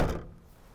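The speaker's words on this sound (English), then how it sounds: "the Aerostar has a very unique door shutting sound" A Ford Aerostar van door with a dented quarter panel slams shut in one heavy, close thunk that rings out and fades quickly, with no voices.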